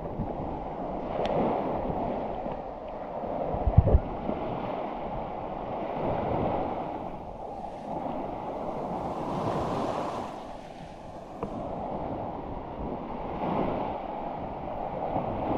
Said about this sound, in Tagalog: Grabe yung alon, no.